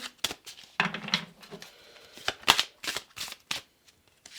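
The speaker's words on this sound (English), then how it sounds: "So I keep hearing use your tools. Okay, so let's shuffle" Tarot cards being shuffled at close range, a run of crisp riffling bursts and soft slaps with short pauses between them, no talking.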